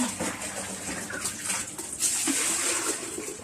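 Water poured into a basin for washing clothes in a rural household, a continuous close gushing and splashing with bubbling surges and no talking.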